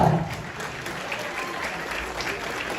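Loud, steady applause from an award show audience for a whole group at the Smart Cinema Award 2025, a Chhattisgarhi film event, with dense clapping throughout.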